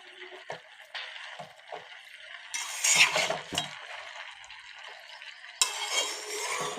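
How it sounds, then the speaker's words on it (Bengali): Cabbage curry is stirred and sautéed in a pan, a soft sizzle under scraping spoon strokes, with a few louder bursts of frying as the chunky-cut cabbage is turned. "কষিয়ে নিচ্ছি"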